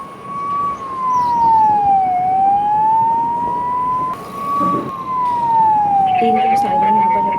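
A VIP security vehicle's siren wails loudly and close by on the streets of Puri, its tone sweeping slowly up and down, with faint traffic noise beneath.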